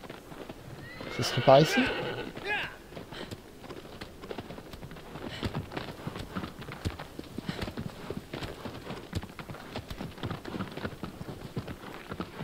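A horse in the video game Shadow of the Colossus whinnies loudly near the start, then its hooves clop steadily throughout while someone talks over it in French.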